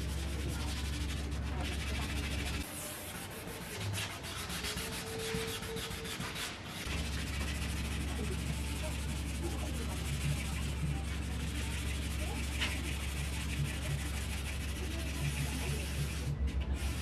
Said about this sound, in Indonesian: untuk step pertama kita akan gunakan amplas dengan grit 500 dan prosesnya harus menggunakan air